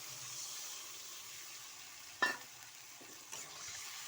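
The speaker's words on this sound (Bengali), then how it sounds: "এবার আমি জলটা দিয়ে দিচ্ছি।" Steady sizzle of spiced masala frying in a pan for hilsa fish sour curry with sweet potato, broken by a brief sharp splash as water is poured in, then a second smaller splash; no talk.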